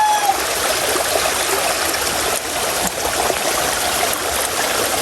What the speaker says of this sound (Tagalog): Grabe po, sobrang laki ng tubig. Umaapaw na po ang ilog.